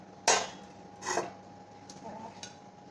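A large, heavy cooking pot is handled and put away with two sharp metallic clanks, then lighter clinks and taps close by.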